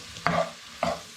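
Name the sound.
stirring onions and carrots in a frying pan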